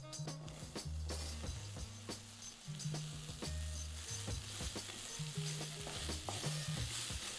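Pumpkin talkari frying in hot oil with garlic in a Trinidad and Tobago kitchen: a constant close sizzle with repeated scraping stirs, over a faint low tonal hum and no talk.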